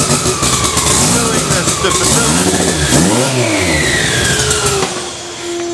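Freshly built engine in a Mitsubishi Lancer Evolution VIII revving hard on a dyno in an indoor shop, a loud sustained drone that rises and falls in pitch through the sweep, with a person's brief speech faintly underneath.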